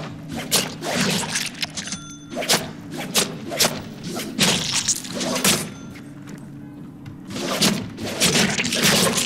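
Goons take light and heavy melee hits in a Deadpool video game: rapid thuds and whooshing swings land in quick bursts, with heavier impacts between them, loud and close.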